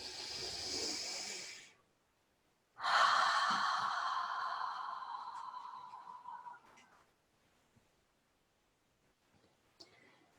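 Deep, slow breaths during a guided relaxation exercise: a long exhale, a pause, then a strong inhale that fades gradually, followed by near silence with a couple of faint clicks.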